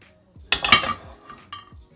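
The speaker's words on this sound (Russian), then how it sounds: "берем две сковороды и переходим к плите" Two metal frying pans clank and scrape close by on a stove, a couple of sharp knocks followed by lighter clinks.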